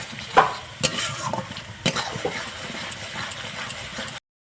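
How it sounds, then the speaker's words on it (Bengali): Spice masala with hand-crushed kasuri methi being stir-fried in a pan for egg palak paneer, with sharp spoon scrapes and clacks over a steady low sizzle, close and fairly loud. "মশলাটা এইভাবে ভালো করে কষিয়ে নেব"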